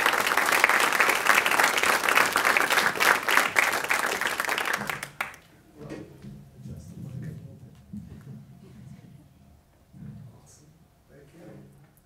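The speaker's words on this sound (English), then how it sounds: "Let's have a round of applause for Stephen." An audience at a climate concert applauds loudly with dense, continuous clapping for about five seconds, then it cuts off to a quiet room with faint shuffles and a few soft knocks.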